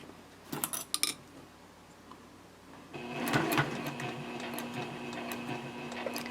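After a few handling clicks, a sewing machine starts and hums steadily while stitching binding onto a quilted A5 journal cover, a close continuous motor whir with a faint rhythmic needle patter and no speech.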